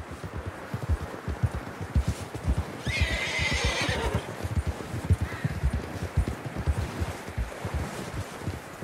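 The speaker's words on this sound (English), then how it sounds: "Horses are struggling." Rapid hoofbeats pound steadily throughout while a horse lets out a loud, shrill whinny partway through, with wind noise underneath, in the video game Red Dead Redemption 2.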